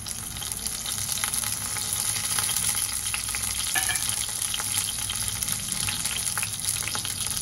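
Whole garam masala spices, including green and black cardamom, sizzle and crackle while being sautéed in a pan, a steady frying hiss with occasional stirring scrapes, close and continuous without talk.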